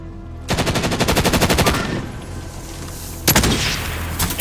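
Rapid automatic gunfire from a video game shooter: a loud sustained burst of rattling shots, a pause with a fading tail, then a second burst starting near the end.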